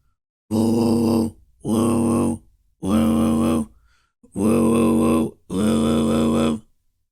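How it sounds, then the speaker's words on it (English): A vocal beatbox unsynchronized throat bass, produced as five separate low, buzzing throat-growled notes, each about a second long with short gaps, loud and close with no other sound. "Unsynchronized throat bass."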